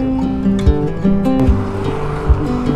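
A motorbike engine with a silencer fitted runs for a pollution check, a close, loud idle with several sharp throttle blips and shifting tones.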